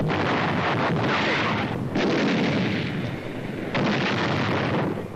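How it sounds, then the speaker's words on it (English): Long-range German artillery guns fire shells across the English Channel in wartime, a loud, dense rumbling roar that barely lets up, with a couple of brief dips in the barrage. "The long-range German guns were getting hot from throwing shells across the channel."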